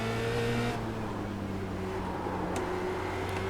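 A Formula Renault 2.0 single-seater in iRacing accelerates hard out of a corner at Druids, its engine note climbing in a steady, loud whine, with a brief gear shift early on.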